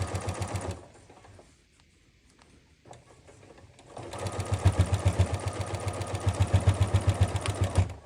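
A sewing machine stitches binding onto a zippered case in a rapid, steady whir, stops for a few seconds, then starts again and runs at the same fast pace.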